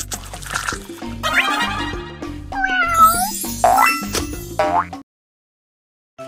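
Cartoon cat meows in a Baby Bus children's animal game, several bright rising meows over bouncy game music and liquid-like effects, then a short silence near the end.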